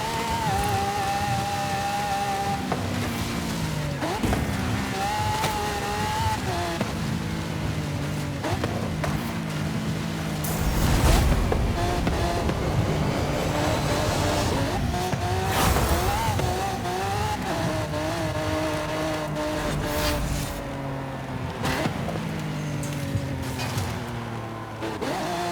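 Engine of a Centenario supercar roaring steadily through a race in Forza Horizon 5, with rising and falling revs, gear shifts and a brief louder burst midway, loud and close with no talk.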